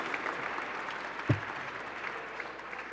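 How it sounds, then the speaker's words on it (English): Applause from a gala audience fills the room as an even, moderately distant patter of many hands, with one sharp thump standing out briefly partway through and no speech over it. "Round of applause for Hashem"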